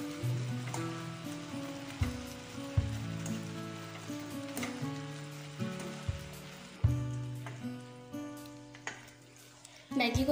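Maggi masala noodles cook in a covered pan, giving a steady low sizzle and bubbling hiss with scattered sharp pops and clicks throughout, close and fairly quiet.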